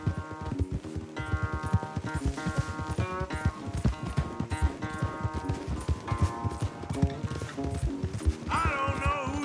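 Horse hooves galloping in Red Dead Redemption 2, a fast steady clip-clop rhythm running throughout at close range, with brief faint background voice and game sounds.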